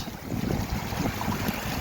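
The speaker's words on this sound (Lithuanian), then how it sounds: "Kažkas niaukiasi žiauriai, bangos padidėjo." Strong wind roars over churning storm waves, a rough, continuous wash of noise with buffeting gusts against the microphone.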